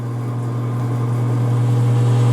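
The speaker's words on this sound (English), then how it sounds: "You will hear the redex valve in the background making noise." Redex valve on a Nordson FoamMelt 190 foam processor, a steady low mechanical hum with a strong droning tone and faint rattly texture, continuous and close.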